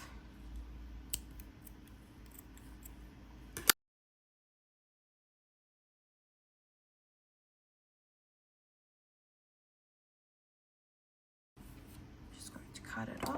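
Scissors snip through crochet yarn in a few quiet, close cuts amid soft handling noise, followed by a long silent gap and then faint rustling.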